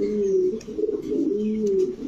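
A female pigeon with a nice shape and pearl eyes coos in low, steady rolling phrases at close range, loud and continuous without speech.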